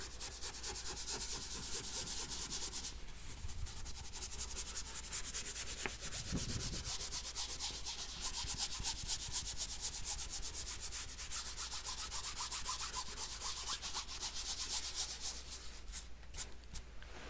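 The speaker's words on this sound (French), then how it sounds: "avec ce pinceau, je vais mélanger les couleurs" A paintbrush mixes paint colours with close, continuous scratchy bristle rubbing and scrubbing strokes that run on steadily in quiet, ASMR-style detail, with no talking.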